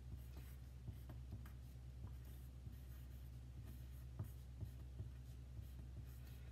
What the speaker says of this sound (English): so I'm going to write that in here.